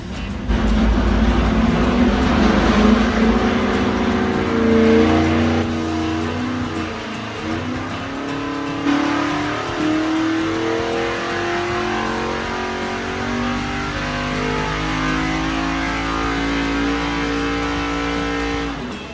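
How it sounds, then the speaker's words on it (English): A V8 engine revs steadily upward under load on a dyno pull, a loud sustained roar with rising pitch lasting many seconds before easing off. "the engine definitely didn't sound happy making the pull"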